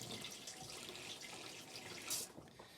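Cold water poured in a thin, faint trickle into a vessel while making mead, a soft liquid splashing that swells briefly near the end.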